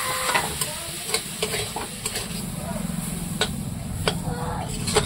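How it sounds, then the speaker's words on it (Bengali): Semolina (suji) and water being stirred in a pan, giving a steady scraping, bubbling churn with sharp clinks of the spoon against the metal at irregular moments, close and moderately loud, with no talking over it. "জল দিতে হবে আর এরকম নাড়াতে হবে।"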